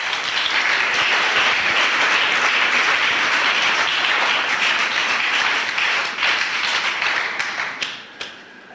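A church congregation applauds during a service, a dense, loud, steady wash of many hands clapping that thins out and fades near the end.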